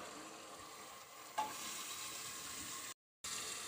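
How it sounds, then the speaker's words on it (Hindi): Fried potatoes go into a yogurt and spice masala, which keeps up a faint, steady sizzle with one brief clink partway through and a short silent gap near the end. "तो अब मैं डाल दूंगी इसमें ये फ्राई किए हुए आलू"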